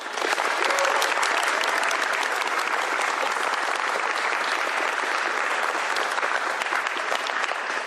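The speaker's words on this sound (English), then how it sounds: "Give them both a big round of applause" Sustained, dense applause from a large crowd at a governor's bill signing, steady and loud for the full stretch with no break.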